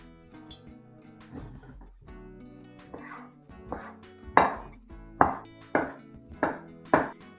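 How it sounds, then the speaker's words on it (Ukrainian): Knife dicing boiled chicken meat on a cutting board, a series of sharp regular thuds, close and clear, with no talking. "Спочатку наріжу кубиком відварене куряче м'ясо."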